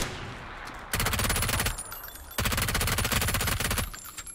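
Two long bursts of rapid machine gun fire in a video game, loud and close, separated by a short pause.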